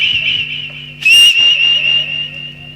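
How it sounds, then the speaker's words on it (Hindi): A person whistles during a nautanki folk theatre show in Bahapur, holding a long, steady, piercing note close by, with a brief louder burst partway through over a low background hum. "हम सीटी मारा"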